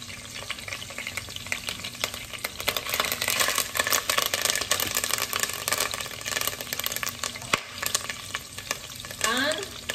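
Lamb meatballs sizzling in a pan during deglazing: a continuous loud hiss and crackle with stirring scrapes and rattles, fading slightly toward the end.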